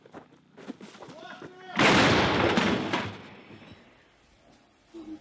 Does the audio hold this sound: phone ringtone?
no